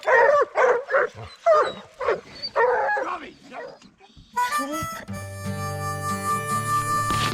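Hunting hounds loosed from a truck bark and whimper in a series of loud, close yelps and whines, with a voice briefly heard among them.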